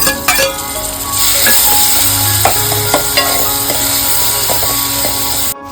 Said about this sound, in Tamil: இப்ப பாத்தீங்கன்னா செவந்து நல்லா இப்ப தக்காளியை போட்டு நல்லா வதக்கணும்